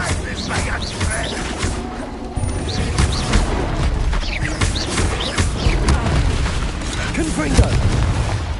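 Blasting-curse explosions in a Harry Potter video game roll out as repeated deep booms over dense, continuous battle noise, with a voice speaking over the din.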